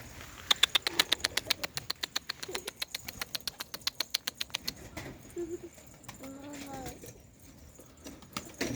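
Homing pigeons beat their wings in a rapid run of sharp flaps during the first five seconds, loud and close, then the flapping fades into softer coos and rustling as a person talks briefly.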